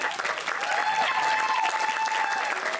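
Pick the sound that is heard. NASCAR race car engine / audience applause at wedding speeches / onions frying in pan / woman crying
audience applause at wedding speeches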